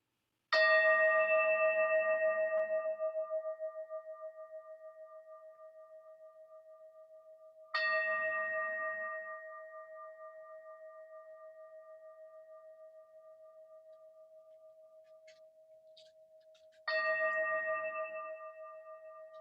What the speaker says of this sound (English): gently track the sound of bells all the way to the end